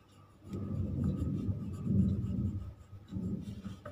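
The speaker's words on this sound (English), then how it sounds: "I am writing." A pencil writing on paper, graphite rubbing against the sheet in a steady scratchy friction sound, close and fairly quiet, in a few continuous strokes.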